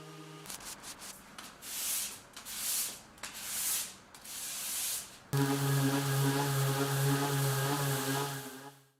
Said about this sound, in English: And then after some more sanding